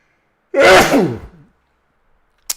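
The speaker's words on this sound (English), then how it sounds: "I'm gonna sneeze." A single loud sneeze bursts out, followed by silence and a faint click at the end.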